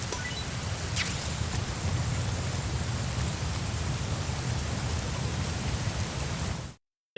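A waterfall in Metal Gear Solid 3 pours in a dense, steady rushing hiss that fills the scene without pause before cutting off abruptly near the end.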